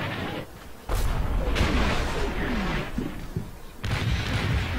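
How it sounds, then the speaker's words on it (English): Bursts of gunfire and booms from a World War II tactical battle in the video game Combat Mission Fortress Italy, loud and dense, with machine gun fire mixed among heavier impacts at close to mid range. "Stupid machine guns."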